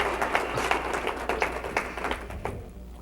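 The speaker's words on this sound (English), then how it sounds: "Can you clap? Let's hear it for Lover, everybody." Audience applause, dense clapping from a small crowd that holds steady and then thins out toward the end, heard at moderate volume.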